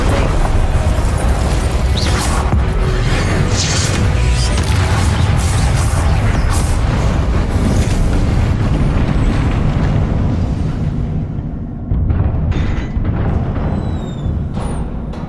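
Repeated Confringo and Incendio spell explosions in the Hogwarts Legacy video game: heavy booms and crackling bursts pile up densely for about ten seconds, then thin into scattered sharper impacts and pops, all loud and close with no talking.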